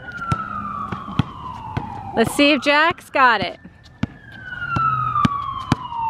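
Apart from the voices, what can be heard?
ambulance siren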